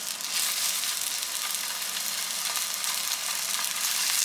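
A piece of salmon fries in a hot oiled pan in a home kitchen, giving a steady, close, hissing sizzle with faint crackles throughout.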